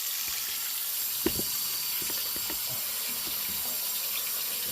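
Hot tap water runs steadily into an air fryer basket at a kitchen sink, making a continuous close splashing hiss with small irregular sloshes and one brief knock.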